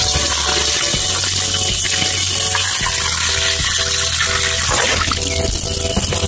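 Hands are washed under a strongly running tap, with water gushing and splashing continuously at close range and a low pump-like hum beneath it.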